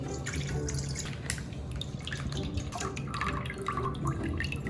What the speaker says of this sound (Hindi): यहाँ पे मैंने लिया है 1 लीटर का पैक ऑफ मिल्क और ये डालेंगे इसमें